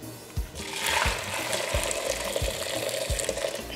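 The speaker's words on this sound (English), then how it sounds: "So make sure you pour some of your shrimp broth in a bowl." Shrimp broth is poured into a bowl, a close, continuous liquid splash and gurgle with small rhythmic thumps underneath, steady for a few seconds with no talking.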